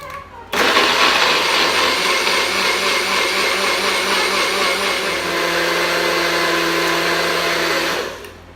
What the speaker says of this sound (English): Put it on, and I'll just blend it for you, and it'll be a bit noisy